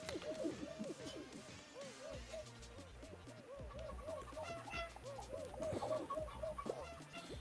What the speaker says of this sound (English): Where are these chickens?